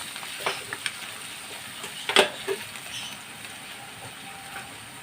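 Ginger and garlic stirred as they fry in a pan for beef bone biryani, with a steady low sizzle, a few scattered utensil scrapes and one sharper clatter near the middle.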